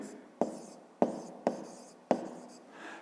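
Pen or chalk writing out a fifth-grade math solution, heard as four sharp tapping strokes spaced about half a second apart, each followed by a brief scratchy trail of writing.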